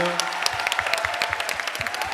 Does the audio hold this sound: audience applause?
yes